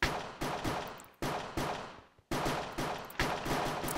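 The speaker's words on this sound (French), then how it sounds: "Alors ici, on a une demoiselle qui tire." Bursts of rapid gunfire in the Minecraft game Cops & Crims ring out loud and close, several separate volleys with short pauses and a decaying tail after each.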